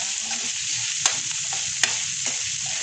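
Food frying in a pan, a home-cooked evening dish about to get soy sauce, sizzles in a steady bright hiss, broken by two sharp clacks of a utensil against the pan.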